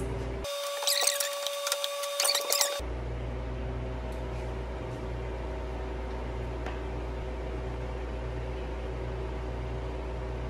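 A freeze dryer in its freezing stage, loaded with bread, gives a steady mechanical hum with a low electrical drone throughout, with a brief louder whirring burst near the start, then continuous even machine noise.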